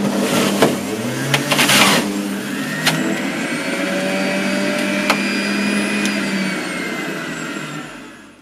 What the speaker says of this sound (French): Côté bruit, le niveau sonore de la machine se situe dans la moyenne avec 80 décibels.